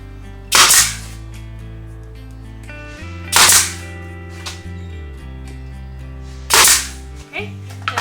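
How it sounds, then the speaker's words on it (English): Three loud, sharp pneumatic bangs from a nail gun driving nails into pine boards while framing a sign, spaced about three seconds apart, each ending in a short hiss, with a low compressor hum running beneath. "keep your hands away from the nail gun"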